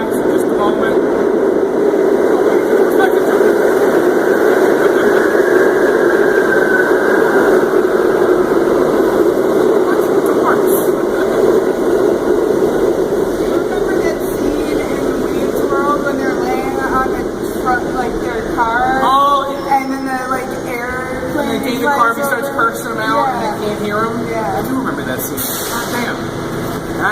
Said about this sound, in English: It's a little noisy, a train coming by, so just a moment.